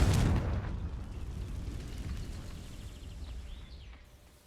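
A Confringo fire spell explodes in the video game Hogwarts Legacy: a loud, close blast at the start that rolls off into a long, fading rumble with no speech.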